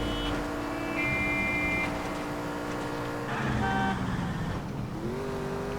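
Car engine in the video game L.A. Noire, a steady droning hum with shifting tones as the car drives fast, continuous and fairly loud throughout with no talk.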